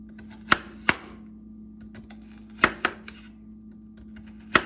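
A knife chops onions on a board with sharp, close thuds that come in small clusters of two or three, separated by brief pauses, over a faint steady hum and no talk.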